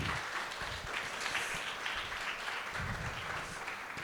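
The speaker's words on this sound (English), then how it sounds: "So give yourself a round of applause there" A round of applause from the audience at a web development bootcamp demo day, steady massed clapping heard at a distance and fairly faint, continuous for the whole stretch.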